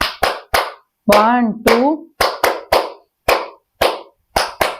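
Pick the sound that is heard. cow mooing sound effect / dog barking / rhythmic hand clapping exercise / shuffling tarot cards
rhythmic hand clapping exercise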